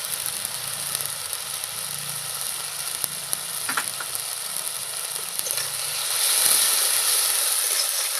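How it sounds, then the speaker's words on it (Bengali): Spices with turmeric powder and salt sautéing in a pan for a home-style chicken ball recipe: a steady, fairly quiet sizzle and hiss with a few faint clinks of stirring, growing a little louder toward the end. "এই মশলাটা ভালো করে কষিয়ে নিতে হবে"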